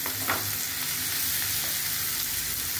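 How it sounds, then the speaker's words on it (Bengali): Chicken mince going into a hot pan for keema pulao, frying with a steady crackling sizzle and a few stirring clinks, close by and with no talk. "এবার চিকেন কিমাটা আমি দিচ্ছি"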